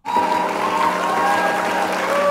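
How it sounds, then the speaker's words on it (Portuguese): An applause sound effect from the Movavi 2023 video editor starts suddenly and then holds as dense, loud, continuous clapping, with a faint tonal background underneath. "Quero o aplauso aqui."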